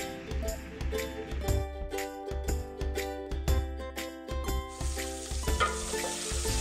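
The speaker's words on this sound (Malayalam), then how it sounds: "ഇനി ഇതിലേക്ക് സവാള ചേർത്ത് കൊടുക്കാം" Onions added to hot oil with cumin and curry leaves in a pan for Palakkad-style kayachar give a steady, close, crackling sizzle with occasional stirring clinks, the frying turning brighter and hissier near the end.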